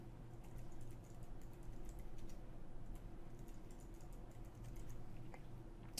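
Keys clatter steadily on a computer keyboard as a password is typed during an OS X install on a PC virtual machine, quick irregular taps close and clear over a low constant hum, with no voices.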